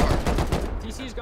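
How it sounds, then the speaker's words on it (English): Rockets pound a player base during a large raid in the video game Rust, a dense run of loud blasts and gunfire-like bursts packed together, easing off as voices start up near the end. "Keep rocketing the base."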